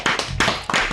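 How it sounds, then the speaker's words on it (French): Hands clap close by in a short burst of about four or five crisp, evenly spaced claps. "on va l'applaudir."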